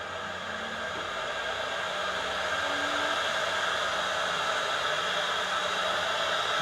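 A CNC machine runs a file, giving a steady, dense whirring hiss with a faint tonal hum underneath, constant and unbroken throughout.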